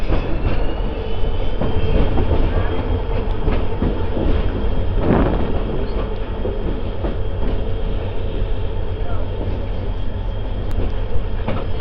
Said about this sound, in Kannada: ನಮ್ಮ ಟ್ರೈನ್ ಈಗ ಲೂಪ್ ಲೈನ್ ಎಂಟ್ರ್ ಆಗತೈತಿ ತೆಲಗಿ ಸ್ಟೇಷನಿಗೆ.